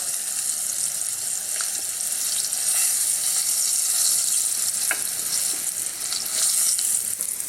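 Pork spare ribs fry in a pan with a loud, continuous sizzle and crackle, with occasional sharper pops and spits over the steady hiss.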